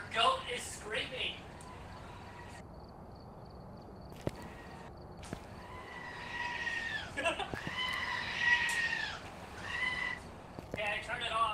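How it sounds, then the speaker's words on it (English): Phone alarm tone of a screaming goat, bleating cries repeating several times, faint and tinny at a distance, mixed with people talking nearby. "It was just a screaming goat in the background."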